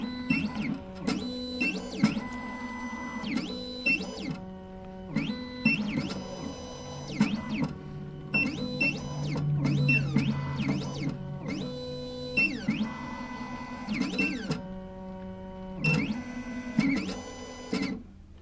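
A Lock Labs Triton Plus key machine runs its calibration cycle, giving faint, close whirring motor tones that start and stop in short bursts with brief pauses between them.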